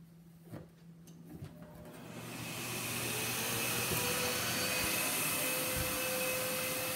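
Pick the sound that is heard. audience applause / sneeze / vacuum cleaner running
vacuum cleaner running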